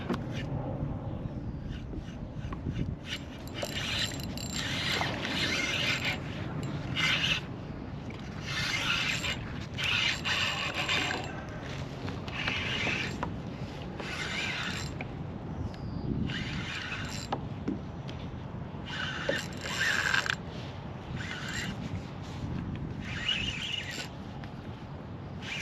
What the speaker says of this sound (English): I love the sound of these Daiwa reels